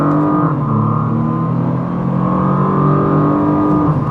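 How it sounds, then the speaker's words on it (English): A Renault Clio 200 Turbo accelerates with an added GTR engine sound, a loud, steady droning engine note heard from inside that holds and rises slightly in pitch with no voices. "I now sound like a GTR."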